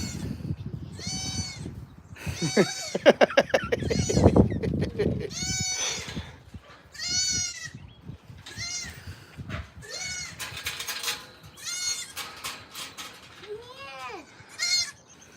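Baby goats bleat repeatedly on a farm, loud wavering cries coming near and at intervals, mixed with people talking and handling sounds.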